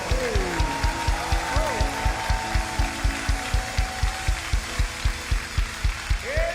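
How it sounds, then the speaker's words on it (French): Worshippers in a church service clapping for the Lord in a steady, rhythmic beat, about three claps a second, over sustained singing voices. "Donne cet applaudissement au Seigneur."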